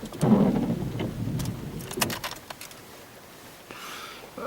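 Steady, heavy rain pours in Crieff with a dense rushing hiss, some sharper drips and spatters standing out, gradually easing slightly toward the end.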